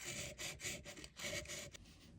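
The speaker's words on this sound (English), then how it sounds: "Remove the remaining by hand sanding." Leftover solder is hand sanded off a brass Seth Thomas clock ring gear: quiet, close back-and-forth rasping strokes, about six of them in quick rhythm, with no voices.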